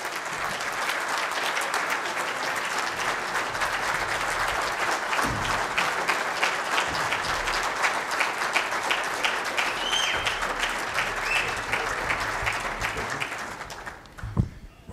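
An audience at the 2015 Louisiana Men's Health Conference applauds to welcome keynote speaker Rudy Macklin, with steady, dense clapping that holds for about fourteen seconds before tapering off.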